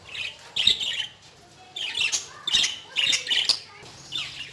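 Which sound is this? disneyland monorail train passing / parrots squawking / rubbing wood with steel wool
parrots squawking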